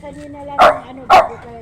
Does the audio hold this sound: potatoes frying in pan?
no